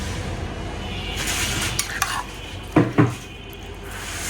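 A lid is set onto a cooking pot of food with panch phoron, landing as two quick metallic clanks close by over a soft background sizzle of frying.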